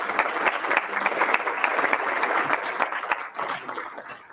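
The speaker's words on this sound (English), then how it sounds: "So can we give a round of applause to everybody that kind of brought this together?" An audience at the Idaho Falls State of the City address breaks into applause, a dense, sustained patter of many hands clapping that continues for several seconds before thinning slightly.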